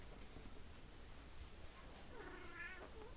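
A cat meows once, a short rising-and-falling call near the end, over a steady low background hiss.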